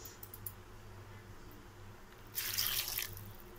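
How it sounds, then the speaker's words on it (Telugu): A cup of water poured into a cooking pot of sambar makes a short splashing rush near the end, following a quiet stretch of low kitchen hum. "ఇప్పుడు దీంట్లో ఇంకొక కప్పు వాటర్ వేసుకుని"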